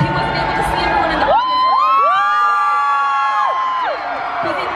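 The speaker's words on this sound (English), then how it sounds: "This is probably like the biggest crowd that we've seen so far at K-Con." A large crowd at KCON LA cheers and screams loudly and continuously, with high-pitched whoops rising and falling across the sustained roar.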